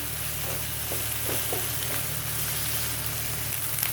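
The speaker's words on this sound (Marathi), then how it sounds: "यामध्ये आता आपण आलं लसूणची पेस्ट पण घालून घेऊया आणि व्यवस्थित मिक्स करून घेणार आहोत" Chicken liver masala fries in a pan as ginger garlic paste is stirred in, giving a steady close sizzle with a few soft scraping strokes and no talk.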